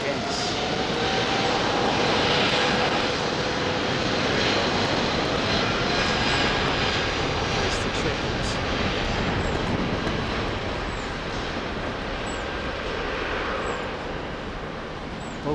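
Airliner jet engines roaring from Heathrow runway 09R, a heavy such as an American Airlines or BA jet: a loud, steady broadband rumble with a slowly shifting whine across fifteen seconds, with people talking over it.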